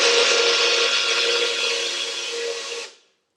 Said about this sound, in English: Oh my god, wow, what a great blender.